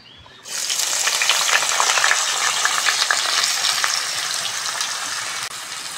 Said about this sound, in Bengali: আলুটা আমি লবণ আর হলুদ দিয়ে ভেজে নেব